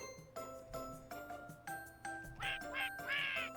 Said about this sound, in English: Max who quacks.